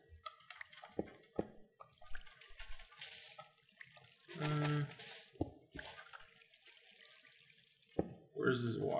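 Water flowing in the Minecraft Feed The Beast modpack, a brief burst of running water amid game clicks and placement sounds, with a person talking over it.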